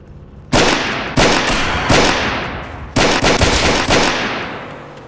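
Tec-9 gunfire in the South London 2 video game, four loud bursts of rapid automatic shots separated by brief pauses, close and dominant, with no voices.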